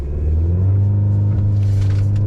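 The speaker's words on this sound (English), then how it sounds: "0 to 60 in the high output TurboMax Denali" A 2024 GMC Canyon Denali truck with the 2.7 HO TurboMax engine accelerates hard from a brake-rev launch in 4 auto with traction off, its engine roaring loud and close in one continuous, rising growl.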